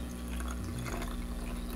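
Water pours steadily into a mix of Floetrol and paint for acrylic pouring art, a continuous close liquid splashing hiss with no talk.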